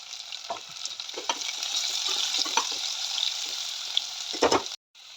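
Green chillies and onions sizzle in hot oil in a pan, frying steadily with stirring clatters and scrapes before the sound cuts out near the end.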